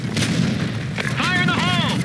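A grenade blast in a squad-based shooter video game booms out and rumbles broadly over a dense mix of game sounds, followed by rising and falling whistling tones.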